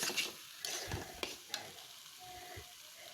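Potatoes are stirred while frying in a pan, a steady hiss of sizzling oil with a few soft scrapes and knocks of the utensil, close and fairly quiet, with no talk.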